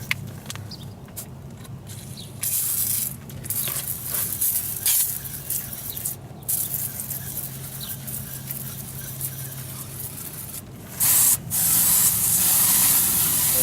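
A steady, close hiss of a water hose spraying down an HVAC unit, broad and continuous, with brief shifts in intensity as the stream moves across a surface.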